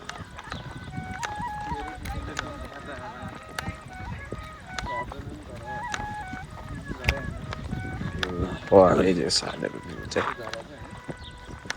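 Birds honk and call repeatedly in the background, goose-like, while people talk over them; calls grow louder near the end.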